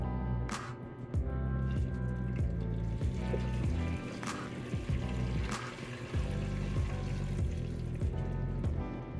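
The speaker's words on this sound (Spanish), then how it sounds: "es momento de agregar el agua" Water is poured into browned butter while making butterbeer, giving a steady liquid gurgle and filling sound with a few sharp sizzling clicks, close and moderately quiet, with no one talking.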